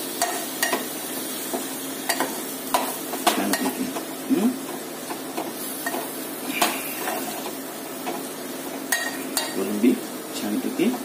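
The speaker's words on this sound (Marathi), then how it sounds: "ही कोळंबी पण याच्यात चांगली व्यवस्थित मिक्स करून घेऊया." Prawns stirred into a hot pan for a dry prawn dish, with steady low frying sizzle broken by repeated clinks and scrapes of a spoon against metal, close and moderately loud, occasional faint voice in the background.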